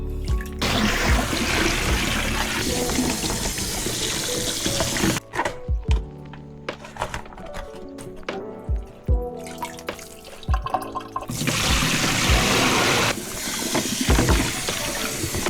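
Cold tap water runs steadily into a freshly cleaned sink while salted cabbage leaves are rinsed one by one; the flow drops to intermittent splashes and drips midway, then resumes as a full gushing stream.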